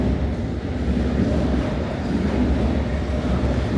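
London Underground Piccadilly Line train on the route to Heathrow, a loud, steady low rumble of the moving train with a faint clatter of wheels, continuous and close.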